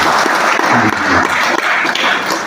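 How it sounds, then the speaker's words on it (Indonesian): Congregation clapping for God during a Sunday Pentecostal worship service at a GPdI church in Sulewana, loud close-up applause with a few sharper individual claps standing out. "Beri tepukan tangan bagi Tuhan"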